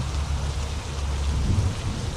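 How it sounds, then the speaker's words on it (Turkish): Steady rain falls with a low rumble of thunder beneath it in the truck driving game Trucker of Europe 3, continuous and fairly loud, no voices. "Yağmur yağdığı zaman arkadaşlar gece karanlıkta mesela böyle bir şimşek çıkıyor"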